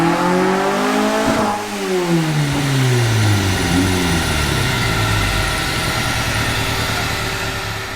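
A 1.8T engine in a Mk2 running on ethanol revs up, and its pitch sweeps downward as the revs fall away. It then settles into a steady, throaty drone heard close and loud, with no talking.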